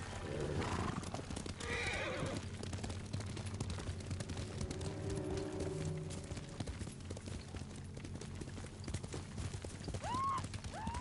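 A horse in the video game Ghost of Tsushima gallops with rhythmic hoofbeats and lets out neighs near the start, faint and distant under a low ambient game backdrop.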